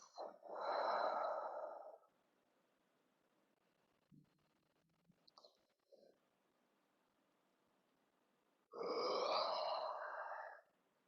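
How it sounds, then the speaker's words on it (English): A slow yoga breath during a beginner shoulder class: a long, close inhale of about two seconds, a quiet pause with faint rustles, then a second full breath of similar length. "Taking in a breath."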